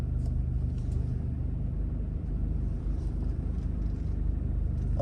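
Trucks rumble in and out of a lake construction site for a golf course and high-rise, giving a continuous low engine drone with steady motor hum and no voices.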